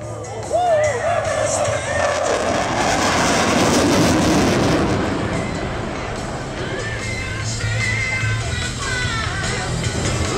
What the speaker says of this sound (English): here comes again Smoky 5 performing an 8G snatchback and exiting to make way for the Smoky formation to fly in